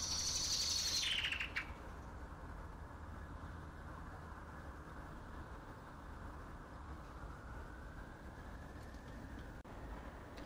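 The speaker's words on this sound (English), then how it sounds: "The blackbird is easily recognised and a common visitor to city gardens." A common blackbird in a city garden gives a short, bright burst of song right at the start, then the birdsong stops and a dull traffic hum continues alone.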